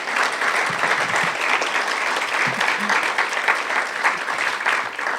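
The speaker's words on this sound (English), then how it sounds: "give a round of applause to our candidates at this time" An audience at a chamber of commerce luncheon applauds forum candidates, with steady, dense clapping from many hands throughout, fairly close and uninterrupted.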